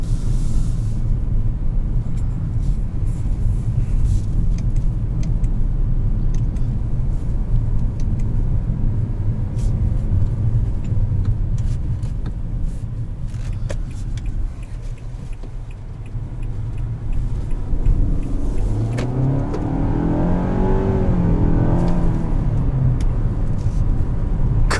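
A 2020 Nissan Altima 2.5 SR with its four-cylinder engine rolls over a bumpy park road, a steady loud cabin rumble and road drone throughout, swelling slightly near the end, with no talking.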